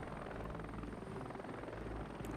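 A helicopter flies in a video game at about 60 meters above terrain, its rotor giving a steady, fairly quiet thudding drone with continuous engine whine.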